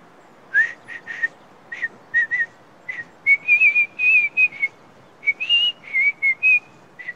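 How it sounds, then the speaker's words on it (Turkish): Someone whistles a lively tune in short, clear bursts with brief pauses, close and fairly loud against a quiet background. "Kürtçe ıslık çalmak yasak"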